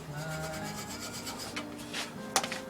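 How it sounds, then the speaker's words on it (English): A wire brush scrubs carbon slag off a custom wrench ring, a close, steady rasping scrub lasting a few seconds, ending with a brief sharp scrape. "I'm going to wire brush that, just a little bit of carbon slag shit off of it."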